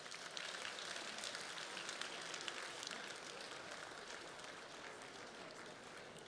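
A crowd claps steadily at a graduation ball dance performance, a fast dense patter of many hands sounding faint and distant, almost rain-like, continuing evenly without voices.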